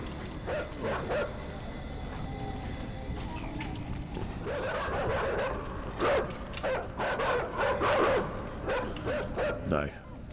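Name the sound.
dogs barking in the video game Inside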